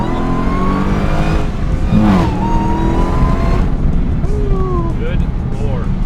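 A Demon Hemi-powered Jeep Gladiator roars loudly up close as it accelerates, its engine note rising and tires spinning, while people talk over the noise.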